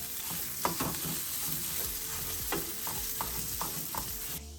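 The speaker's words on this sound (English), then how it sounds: "Go ahead and brown this up." Maple sausage browns in a pan with a busy crackling sizzle, broken by repeated scraping and stirring strokes from a utensil, close and fairly loud.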